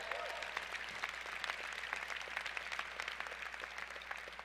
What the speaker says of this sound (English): our part-time MBAs want to give them another round of applause